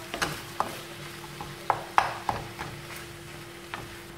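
Minced meat with chopped parsley cooking in a pan, with a low steady simmer under scattered scraping stir clicks and a few sharp utensil taps against the pan; no talking.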